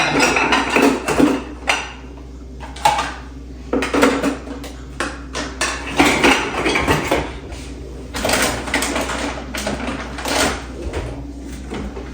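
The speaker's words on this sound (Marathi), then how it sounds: "बाकीचे डबे क्लीन करून ठेवलेले मी आता लावून देते" Cleaned kitchen containers and utensils are set down and arranged close by, with repeated clattering knocks of plastic boxes and metal ware in irregular bursts between short pauses.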